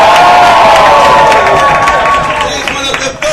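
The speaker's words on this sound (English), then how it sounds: "let's get the whooping, cheering and foot stamping going" A live comedy audience roars with cheering and whoops, a dense, loud wall of crowd noise with clapping and stamping mixed in, steady throughout and fading slightly at the end.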